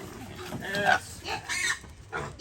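Young pigs on a farm grunt and squeal in several short, close bursts, with a person's voice faintly mixed in.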